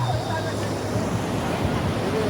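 Big ocean waves rolling in at Casiguran, Aurora, a steady rough roar of surf with wind buffeting the microphone, continuous and fairly loud, with faint voices in the background.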